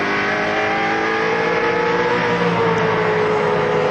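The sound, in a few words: Holden Commodore touring car racing engine, onboard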